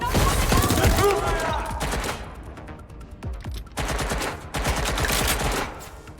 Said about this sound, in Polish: wiele fajnie się z, z MP5 strzela